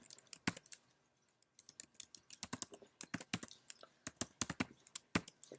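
Computer keyboard typing in quick, uneven bursts of sharp clicks, with a short pause near the start and then steady keystrokes running to the end, close and fairly quiet.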